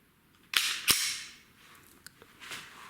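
Dry-fire shots from a laser training pistol practiced at home: two sharp clicks close together, then a few fainter clicks and ticks in a quiet room.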